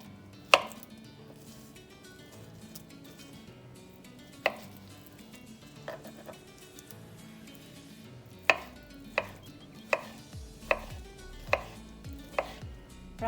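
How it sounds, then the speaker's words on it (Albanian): A knife cuts a red beet into thin slices on a cutting board, giving sparse, sharp thunks at first that turn into a quicker, fairly regular series of close chops toward the end, with no voices. "Edhe panxarin do ta presim në këtë formë, pra ndajmë për gjysmë dhe i presim në feta të holla."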